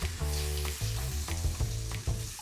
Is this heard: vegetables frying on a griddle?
yes